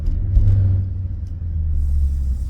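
A Maserati GranTurismo S exhaust rumbles with a deep, steady low drone, heard up close and fairly loud without distinct sharp revs.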